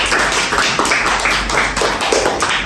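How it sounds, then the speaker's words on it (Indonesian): Applause in a classroom during a group guidance session, a small group of students clapping in quick uneven bursts, close and fairly loud, continuing steadily for a few seconds. "Tepuk tangan dong."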